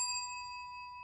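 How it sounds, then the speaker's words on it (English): A single clear bell ding rings out and sustains, its bright tone slowly fading over about a second, with no other sound around it. "I missed the bell too"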